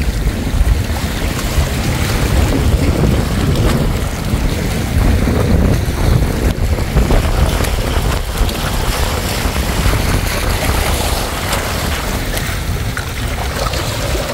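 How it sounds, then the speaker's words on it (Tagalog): Loud, steady wash of water and wind roars continuously, like waves breaking close by on the seashore along Boulevard Road in Masbate City, with gusts buffeting the microphone. "Hampas ng alon."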